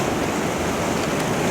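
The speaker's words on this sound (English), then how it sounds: "And just have to keep watching the waves." Ocean waves wash over coastal rocks in a steady, loud rush of surf with no break, heard up close.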